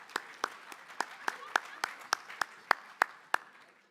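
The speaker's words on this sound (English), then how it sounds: "Can we give a round of applause to the staff here at the Clarion Convention" Sparse, evenly spaced claps at a convention centre awards event, roughly a dozen sharp hand claps in a steady rhythm over a faint murmur, sounding like only a few people joining in.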